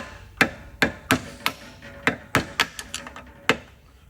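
A hammer strikes a sheet metal upper for a VZ-61 to knock a part off, about a dozen sharp, close metallic blows in an uneven rhythm, some in quick pairs, with short ringing decays between them.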